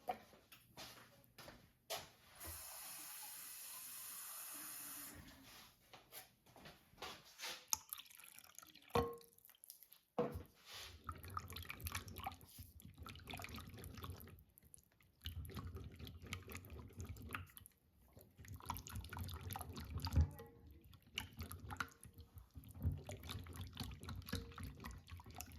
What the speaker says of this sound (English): I think I should add a little bit more water.